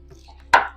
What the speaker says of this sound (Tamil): வெண்டைக்காயோட இந்த தலைப்பகுதி மட்டும் கட் பண்ணு.